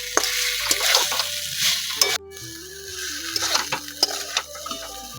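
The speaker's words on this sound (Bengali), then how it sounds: "এখন একটু নাড়াচাড়া করে নেব।" Fried potatoes being stirred through fried spices, including chili powder, in a pan for aloo dum, with steady sizzling and repeated scraping of a spoon against the pan, close and fairly loud, with no talk.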